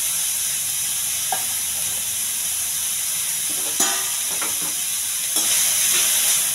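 Cauliflower frying in a pan with onions, curry leaves and green chillies gives a steady, close sizzle, with a few sharper stirring scrapes near the middle and end and no talk.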